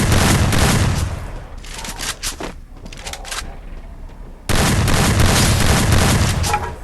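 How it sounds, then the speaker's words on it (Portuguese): Dense bursts of video-game gunfire in a first-person shooter, loud and close, with heavy continuous firing at the start, scattered shots in the middle and another sustained barrage at the end. "Tá dando uma pá de tiro"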